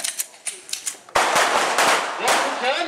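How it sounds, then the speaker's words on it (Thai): A single loud pistol shot rings out from police cadets firing one round on a range, a sharp close crack followed by a sustained burst of noise, preceded by faint clicks and handling sounds. "ดึงสไลด์ยิง1นัด"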